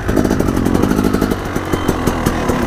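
A pit bike motorcycle engine revs loudly and close with a buzzing, uneven drone and rhythmic throttle blips throughout, on a dirt riding spot where the bike is doing nose wheelies and sideways moves.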